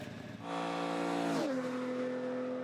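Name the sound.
sports car engine driving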